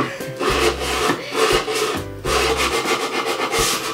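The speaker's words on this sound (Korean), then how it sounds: "이제 사포로 가서 이렇게 면을 이렇게 밀어주고 사포를 붙여주는" Sandpaper rubbed back and forth over sharp wooden edges in a woodworking workshop, a loud, close, rhythmic rasping in repeated strokes, with no talk.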